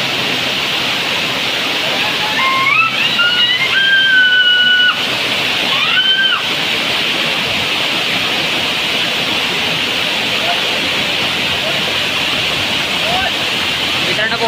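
The Ghonsari waterfall pours with a constant loud roar and rush of water. Faint voices or calls rise over it briefly in the first few seconds.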